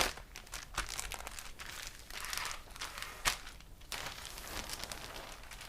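A plastic bag of Airfix model kit parts for a SEPECAT Jaguar is handled close by, giving quiet, irregular crinkling and rustling.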